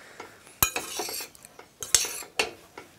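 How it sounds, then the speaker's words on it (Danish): A spoon turns freshly cooked rice in a pot to fluff it, giving a few sharp clinks of metal against the pot between soft scraping stirs, close and alone. "Så nu vender jeg lige, så det er rigtig luftigt."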